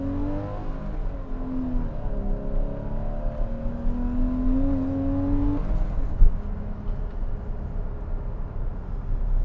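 A 2014 Porsche Cayman climbs a hill, its engine note rising steadily through the revs, then a gear change and a brief bump before the engine settles into a steady lower drone inside the cabin.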